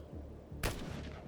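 A single sharp gunshot from the Xenonauts 2 strategy game, a loud broadband crack about midway through, set over a low rumbling ambient game soundtrack.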